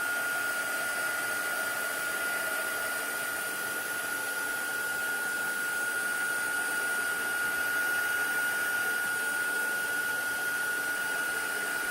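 A heat tool blows steadily to heat set Brusho paint, giving a loud, continuous, even rush of air with a thin whine that holds unchanged throughout, with no voices.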